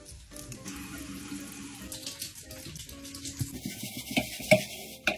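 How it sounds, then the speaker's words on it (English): Water sprays steadily from a handheld shower head rinsing hair off a shower surface, a continuous hiss with louder splashing bursts toward the end. "I'm just gonna take off the hair with the shower head"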